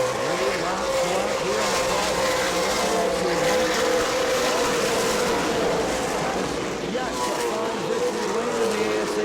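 Race cars roar past at a short-track World Series event at New Smyrna, engines droning loudly and continuously under an announcer's running commentary.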